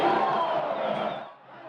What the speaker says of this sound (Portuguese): A torcida, logo após o segundo gol do Icasa, da arquibancada com o grito de "Eu acredito".